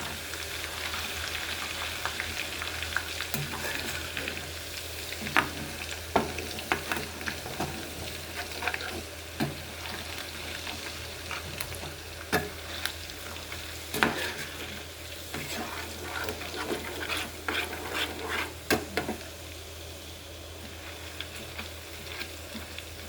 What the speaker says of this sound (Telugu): ఇప్పుడు స్టవ్ కట్టేద్దామండి. ఆ వేడికి వేగిపోతుంది.